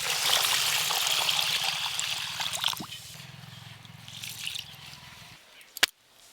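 Water splashes and trickles while basmati rice is washed and soaked for mutton biryani, a busy rush at first that thins to scattered drips and dribbles, with a low steady hum beneath and a sharp knock near the end.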